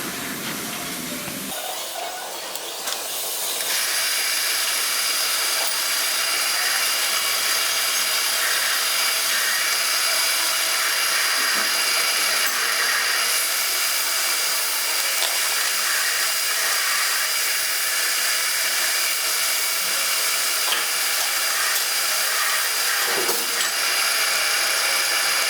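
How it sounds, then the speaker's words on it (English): A drill bores a hole in a small part for a mini steam engine, giving a steady, loud whirring hum that starts after a short pause and runs on without a break, with no talk. "I'm going to drill a hole same size as this"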